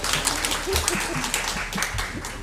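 An audience clapping for a guest at the start of a talk session, a dense, moderately loud patter of many hands with a few murmured voices mixed in.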